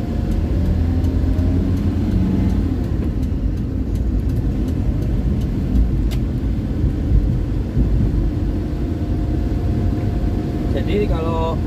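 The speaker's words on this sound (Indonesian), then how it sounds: "Ini saya tes jalan review mobil tahun" A 2007 Daihatsu Zebra Espass on a test drive, a steady low engine drone and road rumble heard from inside the car at constant loudness for the whole stretch, with a faint click near the end.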